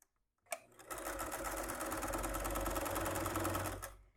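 Close up, a sewing machine runs one steady, continuous whirring stitch for about three seconds while stitching the lining of a makeup bag, starting after a short click and winding down at the end.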